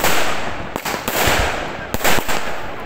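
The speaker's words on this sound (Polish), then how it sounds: "Teraz bierzemy się za rzucanie petard." Firecrackers thrown outdoors on New Year's Eve crackle and bang continuously, with several sharper loud pops over a dense rumbling background.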